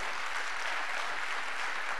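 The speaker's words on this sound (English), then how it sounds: "yes, you can clap for that too" Applause from a church congregation on Cape Cod, a steady dense wash of many hands clapping at once for two seconds, fairly even in loudness with no voices standing out.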